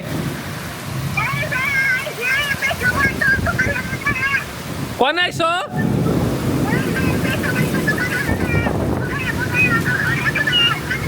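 Torrential rain pours steadily near Bangladeshi farmland during a thunderstorm, a dense constant hiss across the whole stretch, with voices talking over it and a brief sharp crackle midway.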